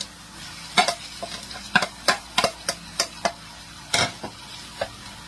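Pork lung for bopis hitting a hot pan, heard as a run of short crackling sizzle bursts and stirring scrapes in an irregular rhythm, close and fairly loud, with no talking.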